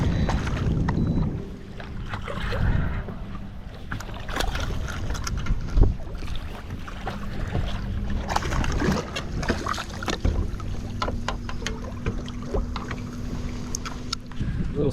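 Summer morning wind blowing over a mangrove island and oyster bar, buffeting the microphone in low rumbling gusts, with water lapping and light rattling knocks close by.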